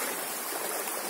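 Steady broadband rush of stream water flowing at a katta check dam under construction, continuous and fairly close, with no voices.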